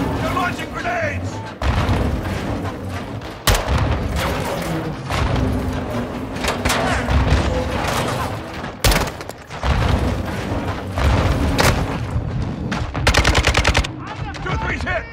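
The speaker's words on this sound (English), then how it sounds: "They're launching grenades!" Grenade launches and heavy gunfire during a Call of Duty: Modern Warfare 2 (2022) combat mission: sustained automatic fire, sharp loud bursts and booming thumps, with shouting voices mixed in.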